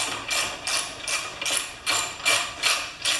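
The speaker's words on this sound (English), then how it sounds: "Let's make sure we can tighten it up." A ratchet wrench tightens a loose bolt on a Homelite 20-inch mower, clicking in about seven regular strokes, each a short burst of close, crisp pawl clatter, with no talking.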